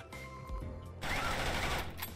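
An AK rifle in the game Neko Arena fires a rapid burst of shots that bursts in loudly at about the one-second mark and continues as dense, close, crackling gunfire over game background sounds.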